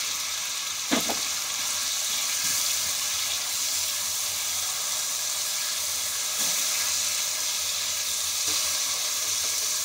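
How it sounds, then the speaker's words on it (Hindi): Drained potatoes hit hot oil for aloo karela bhaja, setting off a loud, steady sizzle with a sharp clatter near the start and continuous frying hiss throughout, no speech. "इधर मैं ये पानी बड़े अच्छे से ड्रेन करके ये सारे आलू डाल देती हूँ"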